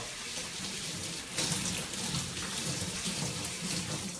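Tap water running steadily into a sink while noodles from a bag are rinsed for sukiyaki, a constant close hiss with a brief surge partway through as the flow or the noodles shift.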